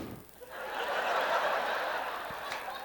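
A long, loud belch pushed out through a wide-open, rounded throat, a sustained rough roar lasting about two and a half seconds with no talking over it, set in a live stand-up comedy show.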